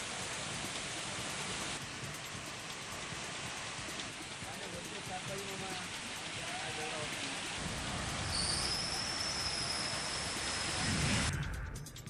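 Steady, dense heavy rain with thunder roars across the whole clip, a continuous wash of noise with a low rumble swelling near the end, and faint voices beneath.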